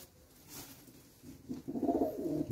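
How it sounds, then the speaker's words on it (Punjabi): A red Chinese pigeon coos close by, a soft low throaty warble rising after a quieter start and continuing in a rolling burst, with no talking. "ਲਾਲ ਚੀਨਾ ਕਬੂਤਰ"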